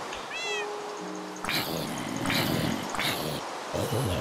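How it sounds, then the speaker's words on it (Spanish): A Minecraft cat meows several times in a video game, with a short rising cry near the start and then a run of louder meows at a steady pace over game ambience. "¡Ay, gatito!"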